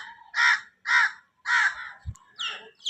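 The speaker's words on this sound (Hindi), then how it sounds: "कितनी कां दी सोहनी आवाज़ है माशाअल्लाह" A crow caws several times in a steady rhythm, harsh and fairly close, with a few shorter calls at the end.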